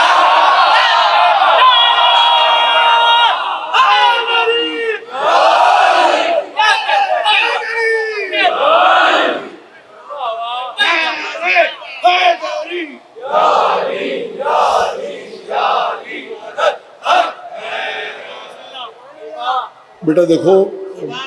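Crowd at a Muharram majlis loudly chanting religious slogans in unison, repeated surging shouted phrases with short pauses between, close and strong throughout.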